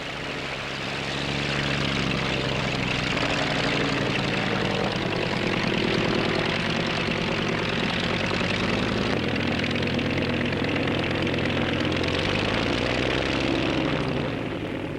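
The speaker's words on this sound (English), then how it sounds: "This is the Cierva Air Horse, a 24-seater helicopter powered by a Merlin engine." The Merlin piston engine of a Cierva Air Horse helicopter drones with a throbbing, rotor-like pulse, building up and holding steady, loud and continuous, with no voices, at the 1949 Farnborough Air Show.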